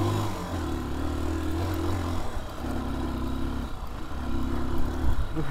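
A motorcycle rides along a road through rice fields, its engine droning steadily and close with a few surges in pitch, no talk over it.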